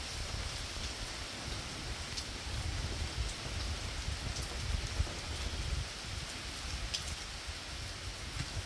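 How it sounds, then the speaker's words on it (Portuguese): Steady rain falls across a mangrove swamp as a continuous, even hiss of drops. The sound stays moderately loud and unbroken throughout, with no voices. "Aí vem chuva de novo, pessoal."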